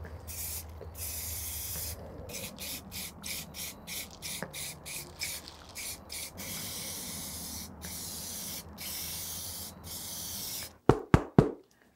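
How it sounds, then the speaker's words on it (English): Aerosol sealer sprayed from a can onto a handmade sword and shield prop, a steady close hissing spray lasting most of the time with brief pauses, ending in a few sharp short bursts. "let's spray on some sealer"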